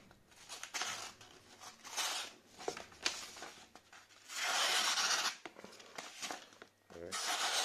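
A Cold Steel Tuff Lite folding knife, razor sharp out of the box, slices through material in a cutting test, giving repeated close scraping and rasping strokes with short louder bursts between quieter passes.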